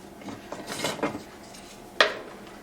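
Metal cutlery rattles and clinks in a kitchen as a spoon is fetched, a cluster of light jangles followed by one sharp close clink, no talking.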